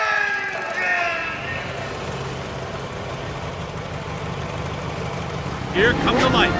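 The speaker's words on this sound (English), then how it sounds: "Racer, start your engine!" A racing engine cranks and settles into a rough, steady idle, a low rumbling drone that holds loud and close, with a brief burst of other sound near the end.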